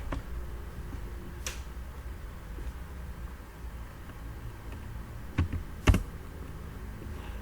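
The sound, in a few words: pressing Enter on a computer keyboard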